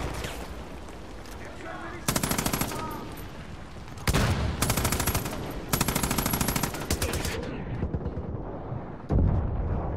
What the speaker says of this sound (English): I have to run to avoid the mortar.